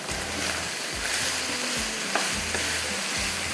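Achari qeema mince fries with fresh coriander in a loud, dense sizzle. Several scraping stirs run through the crackle and pop of the hot pan, and nothing else is heard.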